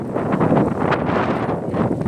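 Steady, strong, cold wind buffeting the microphone in a car park, a continuous roaring rush with no voices.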